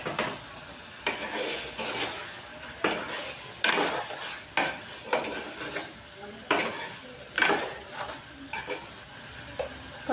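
Chicken liver being stirred with turmeric and salt in a frying pan, with repeated scraping strokes of a utensil against the pan over a steady sizzle, close and uneven in rhythm, with no talking.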